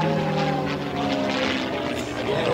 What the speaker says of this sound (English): The P-51D Mustang was North American Aviation's first attempt at a fighter aircraft